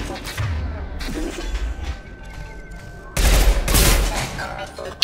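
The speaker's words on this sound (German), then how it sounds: "das ist eine vollautomatische Pistole" Rapid automatic pistol fire in Mass Effect 2, loud dense bursts with booming impacts and game effects, the heaviest burst near the end, with no talk over it.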